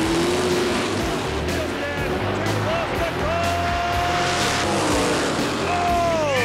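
An all-Mopar drag racing final at Indy, with a loud, continuous roar of race car engines, rising revs and tire noise at launch, and an announcer talking over it throughout.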